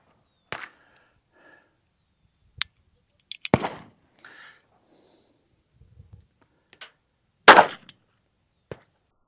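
Shots from a Beretta 3032 Tomcat .32 pocket pistol, heard as several sharp isolated cracks spaced unevenly with quiet gaps between, the loudest near the end and a faint breath between shots.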